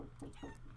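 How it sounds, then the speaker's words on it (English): Video game chickens cluck in quick repeated bursts, several short squawks overlapping close and clear over a low background hum. "I don't think you're really happy about all the chicken noises you're hearing, Frosty."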